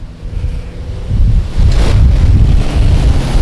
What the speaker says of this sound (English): I could see the gust of wind coming across